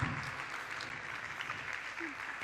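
A church congregation applauds in praise during an evening service, a steady wash of many hands clapping throughout, moderately faint with a voice faintly audible beneath.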